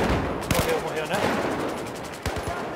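Bursts of automatic gunfire from the Battlefield 4 video game, fired at random in a run of close, loud rapid shots with sharp cracks, a voice talking faintly underneath.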